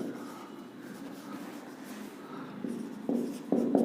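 Pen writing on paper as a bill of exchange is filled out, a soft steady scratching near the mic that grows slightly louder toward the end, with no talking.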